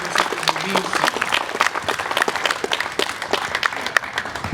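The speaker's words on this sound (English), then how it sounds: "give yourselves a round of applause" A crowd at a pro-Second Amendment rally in Sacramento claps and cheers, a lively outdoor burst of applause with distinct, uneven claps and some voices mixed in.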